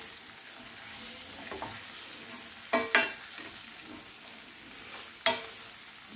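A carrot-radish pickle mixture is stirred in hot oil, giving a steady soft sizzle with scattered scraping clicks and a few sharp utensil knocks against the pan, close up with no talking.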